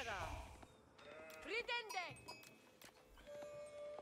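Sheep in an Age of Empires-style strategy match bleat in a couple of short wavering calls, one clear bleat in the middle, under quiet talk.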